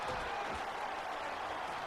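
Football stadium crowd cheering at a game, a broad steady roar of many voices with scattered clapping, sustained and fairly loud with no clear breaks.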